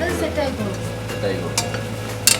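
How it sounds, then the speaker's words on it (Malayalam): Chopped tomatoes being stirred in a sizzling pan, a steady scraping stir over a soft frying hiss, with a sharper clink of utensil near the end. "ചെറുതായിട്ട് ഇളക്കുക."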